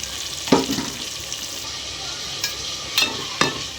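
Onions and tomatoes sauté in a pan for a drumstick fenugreek curry, a steady faint sizzle broken by a few sharp scrapes of a spoon stirring against the metal.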